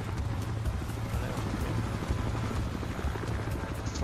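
Helicopter in the video game Battlefield Hardline, a continuous loud rotor thrum with a throbbing low-end pulse, steady throughout and mixed with game ambience.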